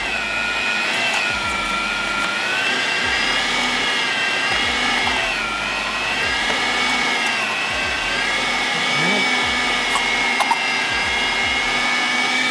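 An electric meat grinder mincing pork and beef whines steadily at close range, its motor drone loud and continuous with faint pitch dips as it works through the meat, nobody talking.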